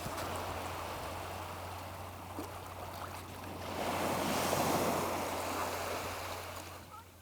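Sea waves wash in a continuous broad surge outdoors, swelling louder midway through as a wave breaks, with a steady low hum underneath and no speech.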